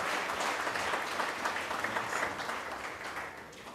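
Sustained applause from a graduation audience at a faculty of education ceremony, dense and steady clapping that fills the room and tapers slightly toward the end.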